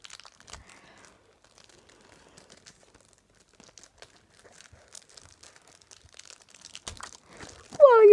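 Scattered crinkles and small tearing sounds of plastic packaging on an Animal Crossing amiibo Festival box being worked open, faint and irregular, ending in a louder rip.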